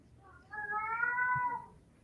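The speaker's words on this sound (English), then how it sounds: "I don't have a small child. That's my cat." A pet cat gives one long, loud drawn-out meow, close by, lasting about a second against a quiet room.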